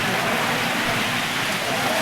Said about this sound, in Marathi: भरपूरच मुसळधार पाऊस आहे